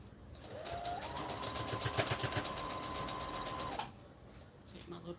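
Sewing machine back stitching on an infinity scarf, a fast close whirring run of a few seconds that stops abruptly, followed by faint handling clicks, with a voice speaking nearby.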